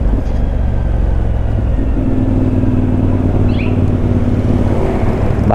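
A CFMoto CF450MT 450cc adventure motorcycle engine hums steadily while riding on a road, a loud continuous rumble under wind noise with no change in pace.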